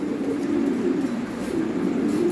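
A jet black Lahore pigeon cooing in a steady low, throaty rolling murmur, close to the microphone, with a faint background hum and no talking.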